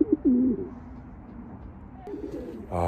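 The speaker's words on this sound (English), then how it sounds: "Our little pigeon buddy." Soft, low pigeon coos at close range, a short burst at the start and another near the end, with quiet room noise between.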